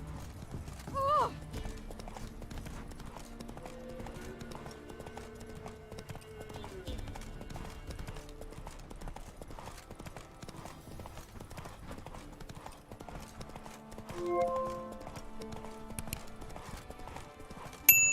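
Roach the horse's hooves clip-clop in a steady walking rhythm in The Witcher 3, soft and continuous, with brief voice and game sounds over them.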